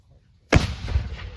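A historic cannon at Fort Ticonderoga fires a single loud, deep boom after a quiet moment, followed by a rumbling echo that fades over the next second.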